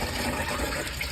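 A battery-powered automatic urinal flushes in a school restroom, a steady close rush of water lasting the whole short moment with no talking over it.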